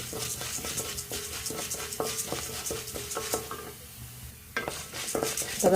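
Urad dal frying in a pan and being stirred, a steady close sizzle with repeated scraping and clinking strokes of a spoon against the metal, briefly easing before the stirring picks up again.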